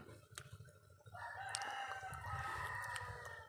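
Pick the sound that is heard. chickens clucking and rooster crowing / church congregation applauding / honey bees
chickens clucking and rooster crowing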